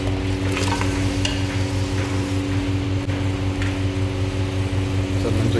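Mutton curry with tomatoes being stirred in a diesel-fired cooker, a steady loud sizzle under a constant low burner roar, with scraping stir strokes throughout and no talk.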